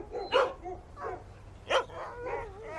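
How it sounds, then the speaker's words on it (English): Sled dog Buck barks in several short, loud yelps spaced across a couple of seconds, with whimpering tones in between, close by and alone without talk. "This is my best dog, Perot."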